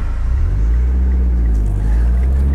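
A turbo-swapped 2010 Mitsubishi Lancer Ralliart Sportback with an Evo X turbo engine accelerates in S Sport mode, a loud, close, steady low engine drone heard from inside the car with no talk.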